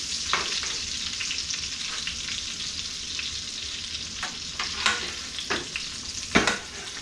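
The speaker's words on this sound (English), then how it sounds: "a little bit more butter to see how my sauce is thickening" Lemon garlic butter sauce sizzling in a pan, a steady close crackling fry with occasional louder pops and stirring scrapes, no voices.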